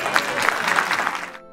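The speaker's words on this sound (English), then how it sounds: "One more round of applause." An audience claps at a birthday celebration for a UC Davis Eye Center donor, a loud burst of applause lasting over a second before cutting off abruptly, with no speech over it.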